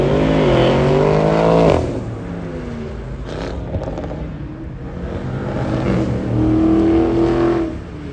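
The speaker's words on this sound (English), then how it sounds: "wait, interlude over, cars coming again." Several cars pull away hard from a car show in Hollywood, Florida, near Fort Lauderdale, their engines revving loudly in two strong, rising pulls with a lull of steady motor noise between them.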